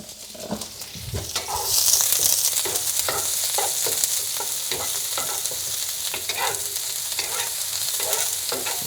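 Shallots caramelizing in a pan over medium heat, a dense, continuous sizzle with rhythmic spatula scrapes and stirring strokes roughly every half second, close and loud throughout.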